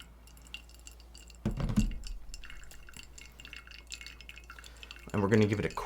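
Water from a kettle poured over decaf coffee grounds in a pour-over brewer, two bursts of trickling, splashing flow with light glassy clinks, each starting abruptly and moderately loud close by.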